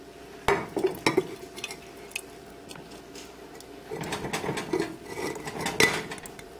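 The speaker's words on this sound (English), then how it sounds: "And stir the mashed beans in with the rest of the beans." A spoon stirs mashed beans into a pot of homemade vegan baked beans, making soft, intermittent scraping and knocking against the pot, with a cluster of strokes early on and more later.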